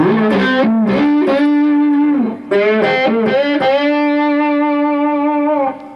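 Sustained electric blues guitar notes and bent phrases played through effects, distorted and bright, with a brief gap midway before a long held tone.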